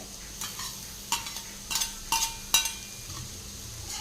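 Green gram and vegetables lightly sautéing in a pan, a faint background sizzle broken by a few sharp spoon scrapes and clinks against the pan, close by with no talking.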